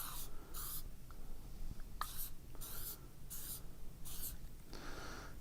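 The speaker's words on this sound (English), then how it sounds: "Spray it, just lightly spray it." Liquid penetrant sprays from a shaken aerosol can in several short, light hissing bursts separated by pauses, close and fairly quiet, for surface defect dye penetrant inspection.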